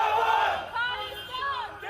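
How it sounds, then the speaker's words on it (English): Mourners crowd together overnight at a Sikh gurdwara in Surrey after the temple president was shot dead, their raised voices blending into a loud, continuous wail of cries and calls lasting about two seconds. "Crowds gathered overnight, grieving the leader."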